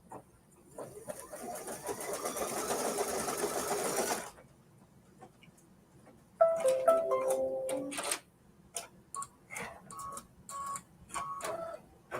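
An embroidery machine stitches the stem placement line for an apple appliqué with a rapid, even buzzing for about four seconds, then falls quiet; a short series of electronic beeps and light clicks follow.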